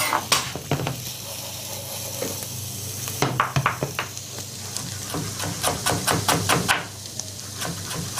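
Vegetables and potatoes frying in hot oil: a loud, continuous sizzle punctuated by rhythmic clacks and knocks of a utensil against the pan, close up.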